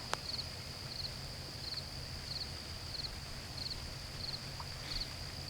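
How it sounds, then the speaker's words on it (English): Steady, soft rain falls in a cemetery at night, a continuous even hiss, with faint insect chirps repeating regularly above it and no talking. "I just kind of hear the rain right now"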